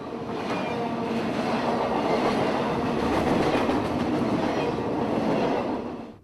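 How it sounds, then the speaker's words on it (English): Freight train Q141 rolls past in Florida with a block of empty Tropicana juice cars at the head, a steady loud rumble and rail clatter that holds for the whole stretch and eases off at the end. "here comes Q141 with a block of Tropicana juice cars at the head"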